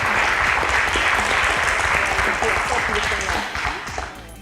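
Audience at a school quiz competition applauds a correct answer, a loud, dense wash of clapping that holds steady and then tapers off toward the end.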